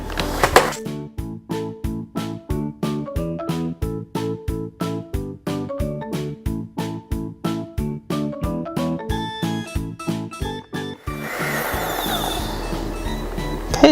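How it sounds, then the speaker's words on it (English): Egg yolks and sugar whisked by hand in a bowl: a steady run of quick, evenly spaced metallic strokes with a ringing tone, ending in a few seconds of denser, rougher swishing, with no voices. "And now I'm gonna whisk the egg yolks."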